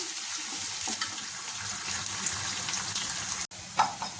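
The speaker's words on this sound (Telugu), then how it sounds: "ఇప్పుడు ఉల్లిపాయలు వేసుకుందాం. ఉల్లిపాయలు ఫ్రై చేసుకుందాం." Onions frying in oil with half a spoon of cumin seeds, a loud continuous sizzling hiss that stays steady, broken by one abrupt cut near the end, with no talking.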